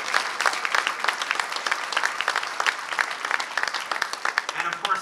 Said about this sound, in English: A big round of applause for our MC.